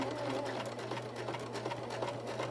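A sewing machine runs steadily, stitching a very narrow seam on an 18-inch doll dress. Its close, continuous whirring hum and rapid needle chatter are heard alone.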